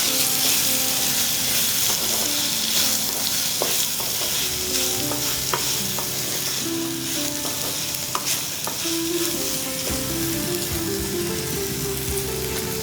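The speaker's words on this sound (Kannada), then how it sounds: "ಫ್ರೈ ಮಾಡೋಣ ಚೆನ್ನಾಗಿ." Asafoetida and turmeric powder frying in hot oil in a pan for a mango and brinjal gojju gravy, a steady close sizzle with stirring scrapes and spoon clinks throughout, no voices.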